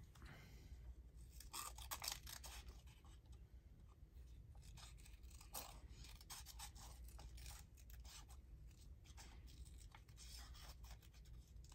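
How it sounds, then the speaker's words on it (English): Scissors snip and rasp through paper in repeated close strokes, with scraping and rustling between cuts and no talking. "So, scissors."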